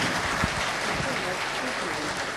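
Applause breaks out in a Turkish courtroom during a hearing of the Ergenekon trial, a dense, steady wash of clapping that fills the room for a couple of seconds, with voices mixed in.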